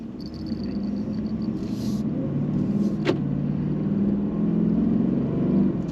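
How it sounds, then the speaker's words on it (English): A Ford F-150 with the 5.0 Coyote engine and an S&B cold air intake pulls away from a stop: a steady low engine drone with light intake whoosh rising gently, moderate and close, no talking. "Hear a little bit more air intake noise, just pulling off, not much"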